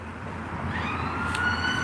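Police or ambulance siren in a street in Barnsley, heard at a distance under steady traffic rumble, its rising wail faint and partly masked, with no talk.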